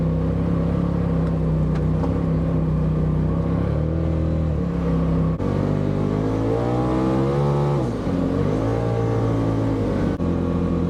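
A Subaru accelerates hard on an off-road ride, its engine roaring loud and steady the whole time as the pitch climbs, dips and climbs again through gear changes, with rough rumble underneath.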